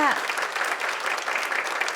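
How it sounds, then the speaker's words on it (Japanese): An audience at a Japanese culture event applauding, sustained dense clapping at an even level, with a brief voice fading at the very start. "大きな拍手をお願いいたします"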